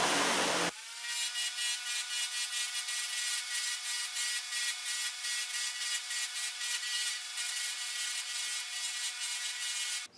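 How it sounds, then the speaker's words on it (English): A 320 grit sanding disc spinning against a faceted wood block, giving a steady, close power-tool whine with a rhythmic rubbing, pulsing texture that runs for several seconds and then stops abruptly. "This is one of these sanding discs. It's a 320 grit sandpaper"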